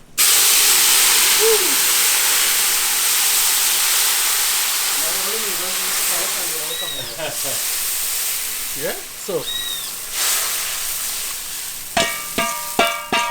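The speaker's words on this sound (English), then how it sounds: "you do it in stages so you don't get burned by the steam" Liquid poured into a hot cooking pot while preparing a catch Trinidad style sends up a loud, broad steam hiss that slowly fades, with sizzling, clinks and someone talking over it.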